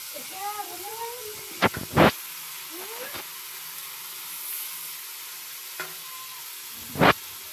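Ginger, green chilli and tomato paste sizzles in a pan with a soft continuous hiss and a few sharp stirring clanks, while a cat meows several times nearby.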